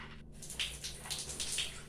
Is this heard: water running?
yes